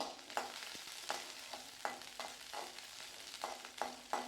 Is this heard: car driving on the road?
no